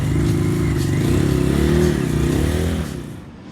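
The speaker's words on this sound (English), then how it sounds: "Come on, Ranky, rev that baby up." A pair of vintage Briton motorcycles at a vintage festival rev their engines in a loud, sustained roar that swells and wavers, then drops off near the end.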